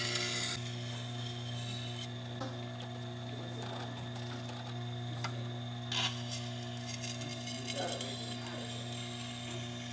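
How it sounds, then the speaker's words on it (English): A chef knife is sharpened on a whetstone with even pressure across the stone, giving faint, repeated scraping strokes over a steady background hum. "keep the nice and even pressure and touch the whole stone"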